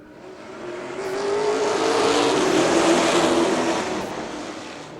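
Pro stock race cars accelerate on a restart, a loud massed engine roar that swells to a peak and then eases slightly as the cars pass.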